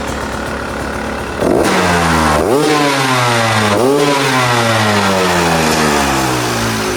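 A 2025 Beta 250 RE two-stroke dirt bike with a failing stator starts up and revs in sharp repeated blips, each one rising and falling close by before dropping back toward a rough idle, loud and with no voices.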